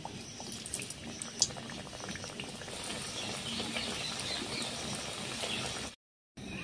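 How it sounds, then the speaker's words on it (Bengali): Continuous soft bubbling hiss of khaja sweets deep frying in oil, steady and fairly quiet, with a brief gap of silence near the end. "এরপর একইভাবে সবগুলোকে আমি ভেজে নিচ্ছি"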